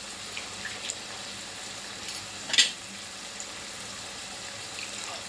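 A pan of chicken and broad bean curry sizzles quietly, with a single brief scrape of stirring near the middle.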